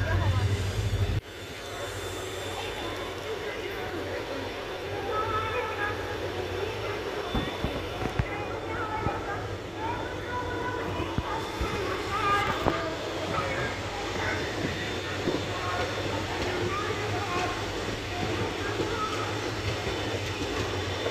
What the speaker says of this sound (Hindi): और चल चुकी है हमारी ट्रेन